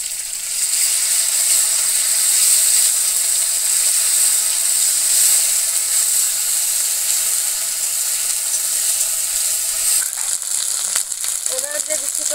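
Onion paste hitting hot oil in a pan while cooking fish with potatoes, a steady, dense, bright sizzle that holds loud and even for about ten seconds, then thins slightly near the end.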